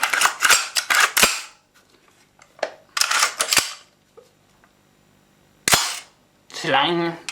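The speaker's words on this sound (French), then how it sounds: "on entend un gros bruit de ressort quand même" Repeated mechanical clacks of an HK417 gas blowback airsoft rifle being cycled, each with a loud springy twang, in quick bursts with pauses between, up close.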